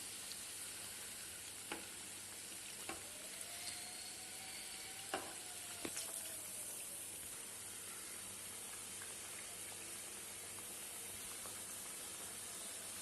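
Drumstick leaf vadas fry in oil over medium heat with a soft, even sizzle and faint hiss, broken by a few light clicks as they are turned.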